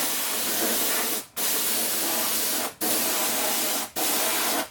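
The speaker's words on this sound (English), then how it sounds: "just take your spray glue, be a can or this, and I just glue it back together" Steady bursts of aerosol spray glue hissing from a can during a Chevy Silverado center arm rest repair, three short pauses breaking a continuous close, loud spray.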